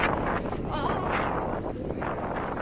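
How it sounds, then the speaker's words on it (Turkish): Strong cold wind at a ski resort buffeting the microphone, a loud continuous low rumble and roar, steady throughout. "Aşırı esiyor, aşırı soğuk."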